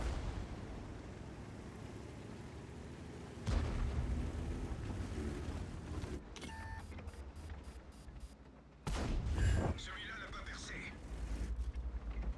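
Tank cannon fire and a shell striking the turret in a tank battle video game, with heavy booming blasts and rumbling impacts over game noise, and someone talking.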